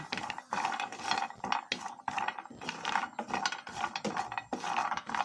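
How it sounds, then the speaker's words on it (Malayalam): Grated coconut being stirred and roasted in a hot pan, giving repeated close scraping and rattling strokes in an uneven rhythm, loud and without speech. "നന്നായി ഇളക്കി കൊടുത്തിട്ട് വറുത്തെടുക്കാം കേട്ടോ"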